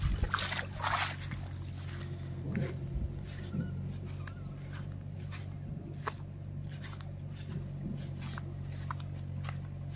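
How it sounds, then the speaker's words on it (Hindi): Canal water from a dam rushing fast into farm fields, a steady outdoor wash of flowing water with trickling and splashing, a low constant rumble underneath and brief louder splashes near the start. "देखिए कितना स्पीड से आ रहा है पानी।"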